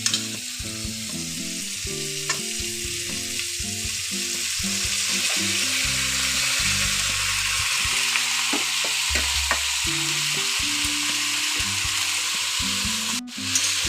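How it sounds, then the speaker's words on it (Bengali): Cut cabbage frying in a pan with spices for a vegetarian cabbage curry: a loud, continuous sizzle close by, with repeated clatter and scrape of stirring throughout and no voices. "এবার এর মধ্যে দিয়ে দেবো আমি কেটে রাখা বাঁধাকপি।"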